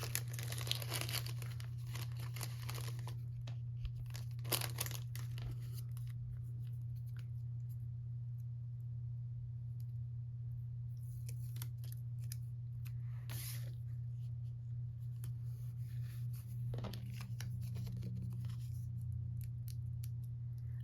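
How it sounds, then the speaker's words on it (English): A freshly made paper sticker is peeled off its backing and pressed onto a planner notebook, giving faint, scattered crinkles and rustles over a steady low hum. "Let's put a little sticker on there."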